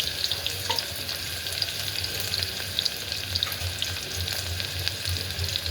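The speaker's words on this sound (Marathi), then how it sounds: "आता आपण कांदा टाकून घेऊया कांदा आणि मिरची" Onion and green chili sizzling in hot oil in a pan for masala rice, a dense continuous crackling fry with scattered sharp pops, close and steady, with no talking.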